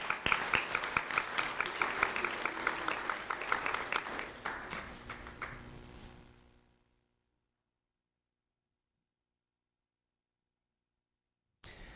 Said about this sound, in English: Round of applause for Cooper Johnson.